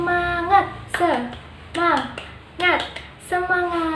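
Young children in a classroom chant together in unison and clap in short rhythmic bursts, calling out in bright voices between quick runs of hand claps, close and lively.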